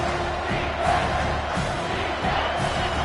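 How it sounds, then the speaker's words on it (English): Home crowd at a college football stadium roaring steadily as the defense tries to get off the field on third down, a dense, continuous wash of cheering and shouting with slight swells throughout. "Here comes this home crowd as the defense tries to get off the field on third down."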